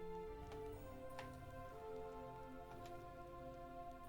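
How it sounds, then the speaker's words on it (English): Light rain sprinkles faintly, with a few sparse ticking drops over a quiet, steady background hum. "the rain has continued to lessen and lessen and lessen until it at this point is just sprinkling ever so lightly."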